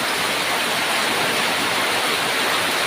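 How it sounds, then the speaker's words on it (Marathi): Heavy monsoon rain pouring down on a Konkan village during rice planting season, a dense, loud, unbroken roar of falling water with no voices. "आता एवढ्या जोराचा पाऊस पडतो ना"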